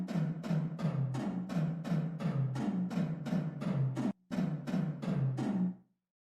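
Tom drums in Ableton with gated reverb: about fourteen rapid, evenly paced hits in a steady roll, each with a bright wash that chops off abruptly. There is one brief gap near the end before the pattern resumes and stops dead.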